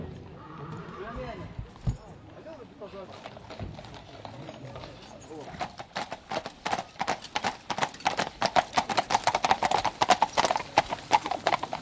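Draft horses clip-clop at a parade on a road route in Luxembourg, Belgium, with faint hoof beats that build into loud, rapid, rhythmic strikes. Talking is heard beneath them.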